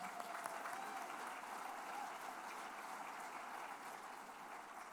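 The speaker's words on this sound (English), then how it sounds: "So give yourselves a round of applause for being here" A crowd at a city justice gathering applauds continuously throughout, a faint, even wash of clapping heard from a distance.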